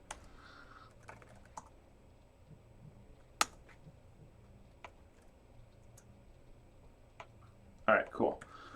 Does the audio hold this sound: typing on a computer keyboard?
yes